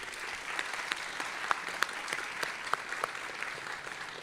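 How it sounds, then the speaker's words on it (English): Audience applause at a college nurse pinning ceremony, a steady moderate wash of clapping with a few sharper individual claps standing out, heard from within the hall. "So would you join me in giving them a round of applause?"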